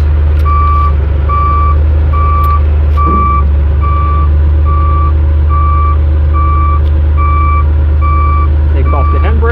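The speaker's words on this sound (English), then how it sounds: "And now we're just going to reverse." A JoyT5 JT5WL1200 mini wheel loader with 1.2 ton lift capacity beeps steadily in reverse, evenly spaced loud tones over a constant low engine rumble, close up.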